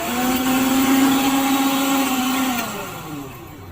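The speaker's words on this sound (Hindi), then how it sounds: "मिक्सी हमारी चल रही है" A repaired mixer grinder runs on a direct mains line, its motor giving a loud steady whine that holds level for a couple of seconds, then winds down as it slows near the end.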